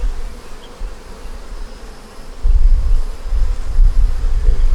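Honey bees buzz steadily at an open hive being inspected for brood and queen cells, a close continuous low drone that swells louder in the second half, with no talking.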